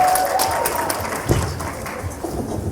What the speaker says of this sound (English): Can I get a round of applause for King Vader?